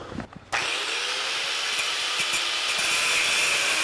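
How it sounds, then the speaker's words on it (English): A power tool cuts through a bolt on the frame of a 1982 Jeep CJ7, starting after a brief pause and then running as a steady, loud, harsh grinding whine for several seconds with no talk. "But for now, I got to cut that off."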